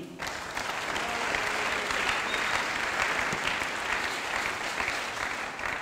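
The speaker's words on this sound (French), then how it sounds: "Et acclame le Seigneur." A church congregation applauds loudly, acclaiming the Lord during a sermon. A thick, continuous wash of clapping holds steady and close from start to finish.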